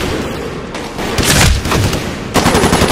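Loud, close gunfire in the Xbox 360 shooter Medal of Honor Warfighter, a dense burst of automatic rounds and booming shots that swells midway and returns hard at the end, with no talking.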